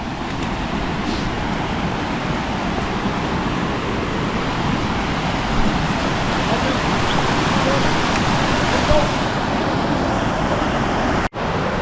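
Steady broadband roar of a waterfall heard from just above the falls on a large rural property, continuous and fairly loud with no breaks, ending abruptly at the very end.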